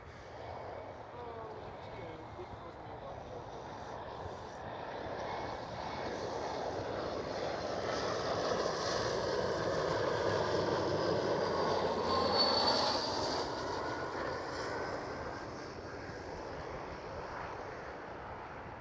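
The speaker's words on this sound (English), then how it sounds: "Next one up is a KLM City Hopper E175." A KLM City Hopper Embraer E175 airliner passing at Schiphol, a broad steady engine roar that swells to a peak midway and slowly fades, with a voice talking over it.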